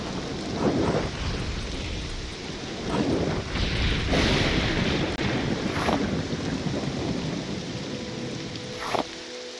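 Rain and thunder in the video game Morrowind, a steady heavy downpour hiss with several rolling thunder rumbles and sharp cracks, loud and continuous with no talk.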